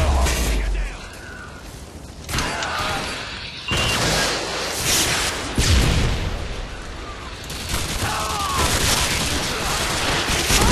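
Video game shotgun fire from a FAMAS-style weapon, loud dense bursts and booms over a constant busy gameplay din, with several sharp onsets across the stretch.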